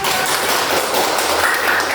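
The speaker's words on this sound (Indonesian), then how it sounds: "Ya, tepuk tangan." Classroom full of children clapping together, a dense continuous patter of hands at moderate loudness with no talk over it.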